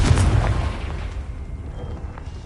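A Confringo blasting curse erupts in the Hogwarts Legacy game, a loud booming burst up front that decays into a rumbling, fading tail with no voices over it.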